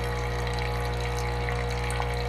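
Saeco Odea Go espresso machine pumping clean water through its system while descaling, a steady droning hum with water trickling, constant and close, no voices.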